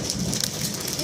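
Steady, dense hiss of rain falling during a storm with a tornado alert, a continuous wash of drops throughout a brief moment with no clear voice over it.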